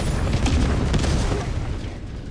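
Enemy artillery explosion in a sci-fi strategy game: a sustained, loud booming rumble with a few sharper bursts, holding strong throughout before easing slightly toward the end.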